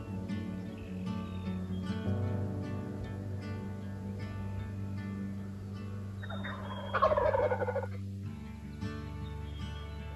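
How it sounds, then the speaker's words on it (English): A wild turkey gobbles from its roost on a cold, clear early morning at about 28 degrees, one loud rattling gobble ringing out over a steady low background hum. "turkey should gobble this morning"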